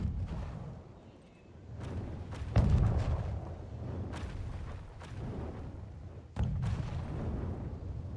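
Booming artillery shots from mortars and ballistae in the medieval battle game Conqueror's Blade, several heavy thuds spaced across a continuous low battlefield rumble, two of them loud and close.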